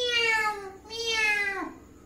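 A voice imitates a pussycat meowing as it comes running, with two drawn-out, falling meows close up and nothing else beneath them.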